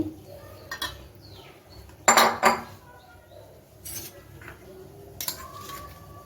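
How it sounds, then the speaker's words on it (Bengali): Eggs being mixed with ingredients, including poppy seed paste and salt, in a bowl for an egg recipe, with scattered clinks and scrapes of a utensil against the bowl, one burst louder than the rest. "এখন ডিমের সঙ্গে সমস্ত কিছু মিশিয়ে নিচ্ছি"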